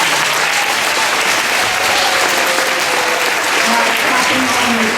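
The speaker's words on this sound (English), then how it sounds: "Let's give them a round of applause." Kindergarten students at an Earth Day school assembly receive a loud, sustained round of applause from the audience, dense steady clapping filling the whole stretch with faint background voices and cheers mixed in.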